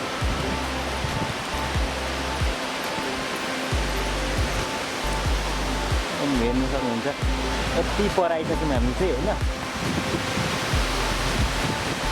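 A stream in a Sarlahi village rushes in a continuous broad hiss of flowing water, loud and close, while people talk over it.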